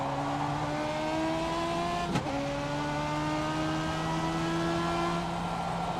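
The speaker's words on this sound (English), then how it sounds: "I guess that's where you give it the throttle blip and bring the RPMs up so you don't wheel hop" A race car in the iRacing simulator drones at steady high revs. Partway through, the engine tone breaks sharply as it downshifts with a throttle blip, then climbs back into a smooth, sustained whine. No one speaks.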